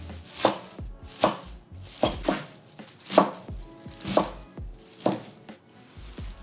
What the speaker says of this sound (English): I'm just gonna roughly chop the spinach to add it to our mix